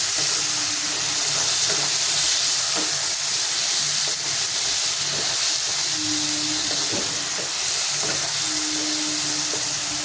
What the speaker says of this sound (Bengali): কষানো হচ্ছে, গ্যাসটা আমি কমিয়ে দেবো।